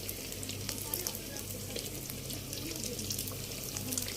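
Semolina luchi puff in a pan of hot oil with a dense, steady sizzle and crackle, plus faint splashes and low background rumble, heard close and moderately quiet.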